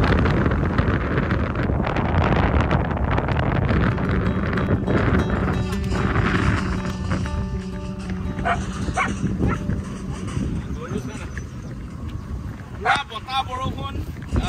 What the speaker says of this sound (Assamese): বতাহৰ ইমানেই কোব